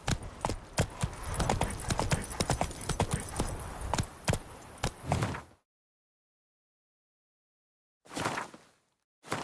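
Horse hooves galloping in The Witcher 3: Wild Hunt, a rapid, loud, close clatter for several seconds that cuts to silence, then short bursts of hoofbeats return.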